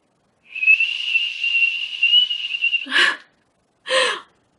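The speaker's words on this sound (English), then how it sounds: "Barely I can whistle" A long, steady breathy whistle held on one pitch for about two seconds, followed by two short sharp exhales, close to the listener.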